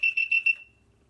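A liquid level indicator clipped to a coffee cup sounds a short run of four high electronic beeps in quick succession, clear and close in a quiet room, then stops.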